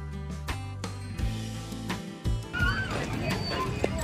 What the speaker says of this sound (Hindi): मज़ा आ गया भाई घोड़े का, घोड़ी की सवारी करके